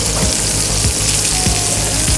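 Salmon fillet searing in a hot pan after being flipped, a loud, dense, steady sizzle with faint periodic low bumps throughout.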